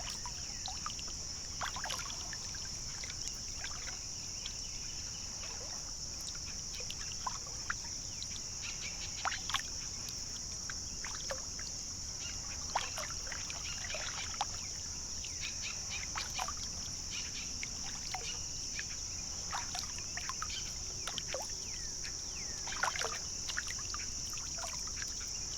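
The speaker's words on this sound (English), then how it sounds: "We're actually kayaking down another, I guess we could call finger or branch of this lake." Kayak paddling on an early-morning marsh lake, with soft irregular water splashes and drips from the paddle beneath a steady high insect drone and occasional faint bird calls.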